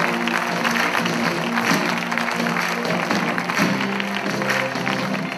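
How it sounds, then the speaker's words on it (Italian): Continuous crowd applause with cheering voices mixed in, sustained and fairly loud throughout. "Prima non ho presentato i bassisti, quindi si prendono un grande applauso adesso, che sono Maria e Carlo."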